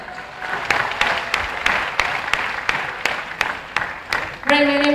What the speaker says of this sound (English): Big round of applause again to USM Jazz Band.